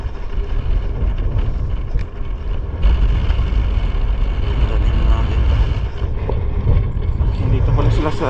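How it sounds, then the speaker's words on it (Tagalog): Strong wind gusts buffet the microphone at a fishing spot, a constant heavy low roar that swells and eases over several seconds while people talk underneath. "Grabe talaga ang lakas talaga ng hangin na."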